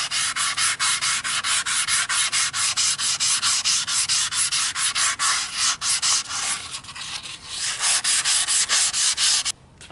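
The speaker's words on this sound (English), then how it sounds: "Now I'm gonna stick a piece of 400 on there and polish up a little smoother this mating surface for the seal." A semi truck axle seal mating surface being polished with 400-grit sandpaper, making rapid, rhythmic scratchy rubbing strokes that repeat steadily, close and loud, with a short pause near the end.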